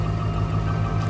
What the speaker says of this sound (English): That compressor you hear running is my exhaust brake